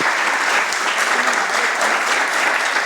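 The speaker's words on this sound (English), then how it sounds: "keep that applause going" A live audience applauds after a book reading at a literary event, dense steady clapping filling the room at full level for the whole stretch.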